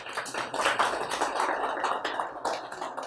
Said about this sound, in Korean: 우리 부부에게 하나님의 기적 같은 은총이 임하시기를 바라는 격려의 큰 박수 한번 부탁드립니다.